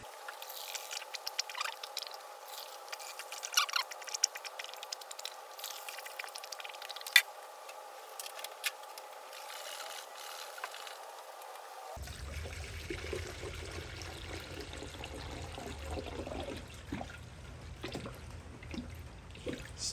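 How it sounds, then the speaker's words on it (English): Coolant trickles and pours into the radiator of a Mazda Miata, a quiet uneven liquid flow with drips and glugs; the background shifts partway as the pouring continues alone. "I'm just gonna go ahead and fill up the radiator, burp it"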